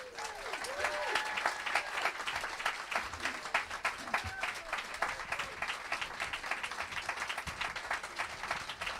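Steady applause from a seated audience in a bookstore event hall fills the room, many hands clapping continuously at moderate distance with no voices standing out.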